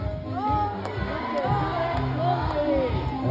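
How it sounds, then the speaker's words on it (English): Audience cheering and whooping in a crowd at a bird show at Cebu Ocean Park, with many voices shouting together at steady loudness for a few seconds. "If it's a yes, let me hear you cheer."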